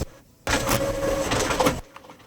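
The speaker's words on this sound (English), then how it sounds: "We then have my printer" A desktop printer runs for about a second and a half, a steady mechanical whirring feed with faint clicks that starts abruptly and stops just as suddenly, close and fairly quiet in a still room.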